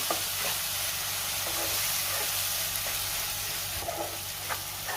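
Ground masala paste sautéing in hot oil, a loud, continuous dense sizzle with occasional soft stirring scrapes, close up and without voices.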